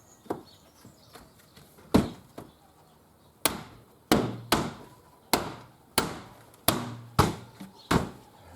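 Glazing trims being tapped into a window frame while an external double glazing unit is replaced: about a dozen sharp, close knocks, sparse at first, then coming at a steadier beat.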